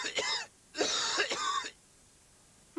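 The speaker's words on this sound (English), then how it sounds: "Bad cough." Cough sound from a 1992 British TV advert: two rough, throaty coughs separated by a short pause, loud and close, with no talk over them.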